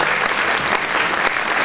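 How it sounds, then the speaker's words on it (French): Dense, loud applause from an audience at the Miss Lorraine 2011 beauty pageant election, many hands clapping continuously and evenly throughout, close and full. "qu'on peut applaudir s'il vous plaît, il le mérite vraiment"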